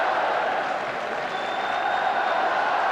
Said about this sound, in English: Every Scottish player getting a cheer